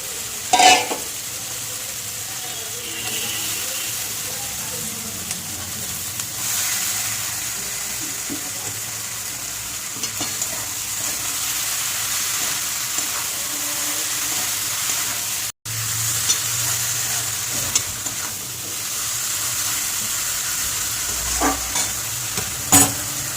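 Salted water lily stems, cooked with dried fish and prawns, sizzle steadily in a pan while being stirred, a continuous close frying hiss with occasional scraping and a brief drop out midway, no one talking.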